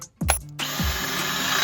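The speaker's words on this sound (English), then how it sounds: "The harder you push on the drill bit, the faster it works." A power drill whirs up in two short bursts, then bores steadily into a steel bumper for a 4th gen tow truck, a close grinding whine that holds to the end.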